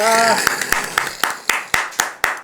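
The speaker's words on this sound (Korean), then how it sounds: "야, 박수." Eight sharp claps in a steady rhythm, close by, following a brief burst of voice at the start.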